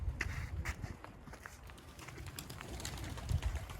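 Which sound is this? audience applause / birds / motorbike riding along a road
birds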